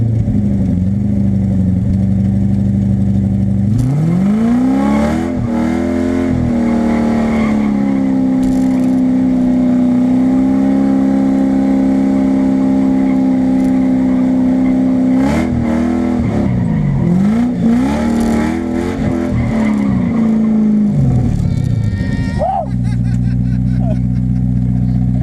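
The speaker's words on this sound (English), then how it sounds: "I managed to get this car to drift around that cone in under 10 minutes" A car drifting around a cone: the engine revs and holds a steady high drone, rising and falling through several throttle surges, with tyre noise mixed in over continuous loud sound.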